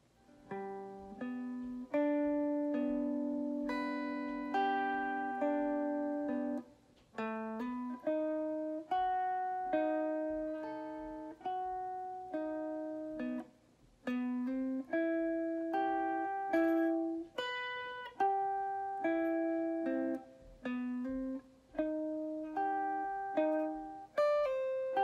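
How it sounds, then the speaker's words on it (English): Guitar picking through a song slowly from the top, a steady run of clear plucked notes and sustained chords, played alone and close with brief gaps between phrases. "So from the top, slow, it sounds like this."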